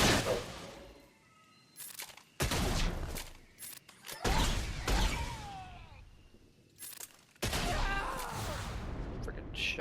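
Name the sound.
shotgun fire in Star Wars Galaxy of Heroes video game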